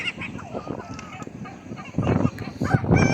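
Ducks and chickens at a poultry market in Kuwait squawk and honk in short overlapping bursts close by, while people talk and bargain.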